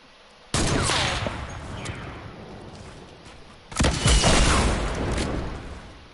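Two heavy bursts of video-game weaponry, an RPG shot and gunfire, each hit abruptly and then taper into a long rumbling decay, the second louder than the first.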